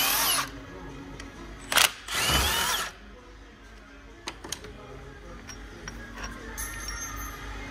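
Power drill loosening bolts on a Volkswagen Golf 6 1.4 TSI engine: two short, loud whirring bursts close by, then quieter clicks and workshop handling noises.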